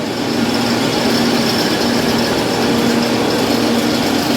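A thickness planer's cutter shaft spins up and runs steadily with the feed engaged, a loud continuous machine whine and hum with a strong low tone, unbroken and close, with no voices.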